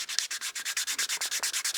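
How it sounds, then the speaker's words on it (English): Turned wood being hand sanded with 400 grit sandpaper, a fast, even run of rasping back-and-forth strokes, close and steady throughout with no voices. "I'm just going to hand sand this with our 400."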